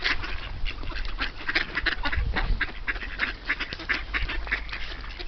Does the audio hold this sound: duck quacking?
yes